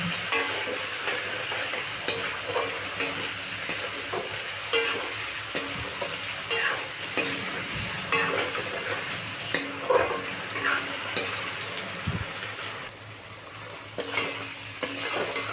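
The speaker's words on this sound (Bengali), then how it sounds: "চিনি দিয়ে দিয়েছি, এটাকে ভালো করে ভেজে নেব।" Vegetables sizzle and fry with sugar in a pan while being stirred. A continuous crackling hiss runs throughout, broken by occasional scrapes and knocks of the spoon against the pan, with no talking.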